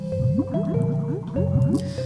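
Banjo swims through water in Banjo-Kazooie, repeated bubbly, gurgling swim strokes in a steady rhythm over a tonal music line, fairly quiet.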